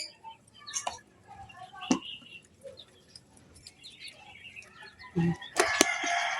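Scattered bird calls and chicken-like clucks in an outdoor setting, with a burst of brighter squawking near the end.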